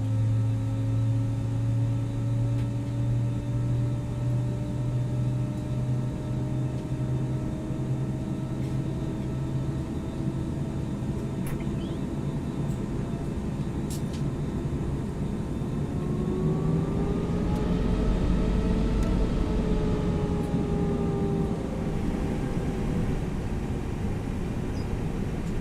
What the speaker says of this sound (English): Gonna increase the volume here so you guys can hear the engines.